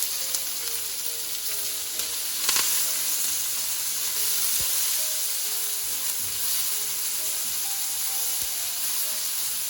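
Finely chopped onions frying in hot oil with cumin seeds, giving a steady, loud, crackling sizzle that runs without pause, with a few sharper pops and no voices.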